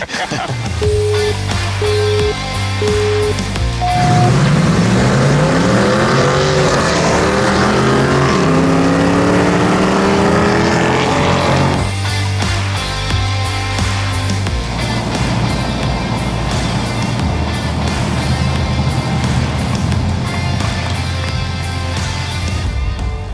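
Cars accelerating hard in a drag race, engines revving high through the gears with rising whines, one shift missed near 8,000 rpm, then a sustained loud roar as they pull away.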